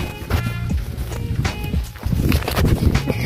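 Running footsteps pound along a mountain hiking trail on Ciucaru, a quick irregular patter of steps with rustling close to the ground, continuous through the clip with a brief pause near the middle.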